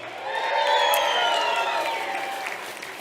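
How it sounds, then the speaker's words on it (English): A crowd applauds with a swell of clapping and cheering that peaks early and then gradually tapers off. "Let's clap it up for Angela."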